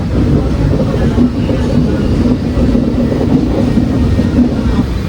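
A train rumbles loudly and steadily, with faint rhythmic clatter of wheels on the tracks as it slowly rolls through Pudukad railway station without stopping.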